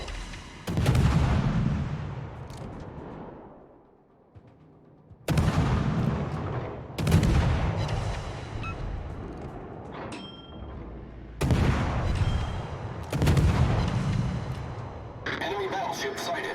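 Battleship naval gunfire in a naval combat video game, heavy booming salvos that come in several separate bursts with rumbling tails, and a voice talks in between.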